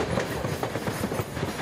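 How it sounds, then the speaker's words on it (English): A passenger train travels north toward Gdansk on Poland's Baltic coast, giving a steady rumbling roar with rhythmic clickety-clack from the wheels on the track, heard close from inside the carriage, with no voices. "The train is now heading north to Gdansk on the Baltic coast."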